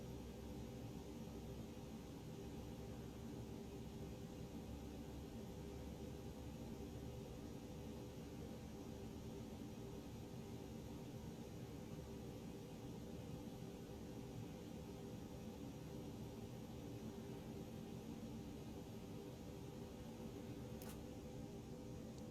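Airbus A320 jet engines in X-Plane 12 spool up as a steady, faint, broadband whine and rumble that holds evenly throughout, with no voices heard over the continuous hum.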